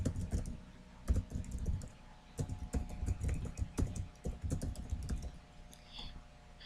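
Fingers typing an email address on a computer keyboard in quick, irregular bursts of close, crisp key clicks, with short pauses between runs of keystrokes and no voices.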